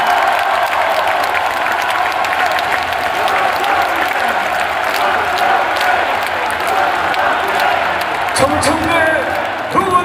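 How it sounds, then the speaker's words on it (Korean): Sustained applause from a large crowd at the Democratic Party of Korea party leader convention, steady dense clapping throughout with a few sharp thumps near the end. "뜨거운 박수 부탁드립니다."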